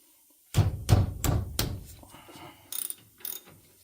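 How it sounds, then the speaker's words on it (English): Close ratchet wrench with a 15 mm socket loosening brake caliper bolts on a CFMOTO ZFORCE 950 HO EX, four heavy clacks followed by quicker lighter ratcheting clicks. "now we're going to undo our brake caliper. For the caliper bolts, you need a 15 millimeter."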